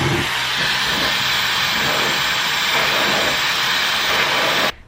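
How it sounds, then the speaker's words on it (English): A hair dryer blows in a loud, steady broadband rush that holds constant close by, then cuts off abruptly at the very end. "I'm going to dry my hair and then crack on with what I need to do"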